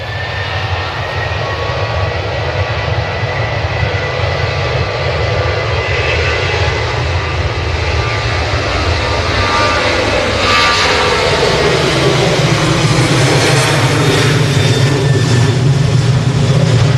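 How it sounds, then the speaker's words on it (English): A Ryanair jet airliner bound for Barcelona departs Manchester Airport, its engines roaring loudly and steadily for the whole stretch as the rumbling pitch shifts while it passes close by. "So where's this Ryanair off to?"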